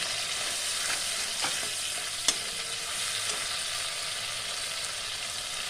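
Mustard and poppy seed paste cooking in a pan for a prawn bhapa dish, a continuous hiss of frying close by with a couple of faint utensil taps, no talking.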